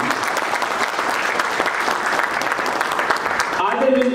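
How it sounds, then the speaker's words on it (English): Loud, dense applause from a summit audience at an HRM conference in Delhi NCR, sustained clapping filling most of the stretch before fading as a voice begins to speak at the end. "I would request all of you to give a very big round of applause to Adil."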